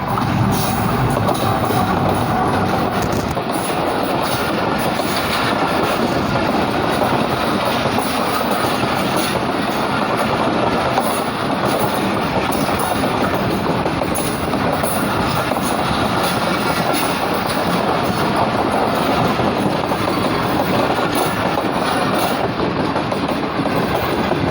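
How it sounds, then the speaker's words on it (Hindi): The down Karakoram Express of Pakistan Railways, hauled by a GU40 locomotive, runs through Samanabad station at speed, a loud, continuous rumble of wheels and steady clickety-clack filling nearly twenty-five seconds without talk. "डाउन कराकरम एक्सप्रेस समनाबाद से थ्रू पास करने लगी है GU40 के साथ"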